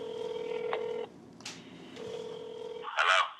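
A phone number is dialed: steady dial tone, then clear touch-tone beeps with short pauses between them. The sounds are close and fairly quiet, with no voices.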